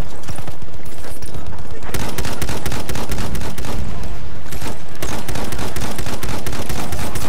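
Rapid, loud automatic gunfire from the Battlefield 1 video game in multiplayer sounds as dense continuous bursts with only brief pauses, close and dominant throughout.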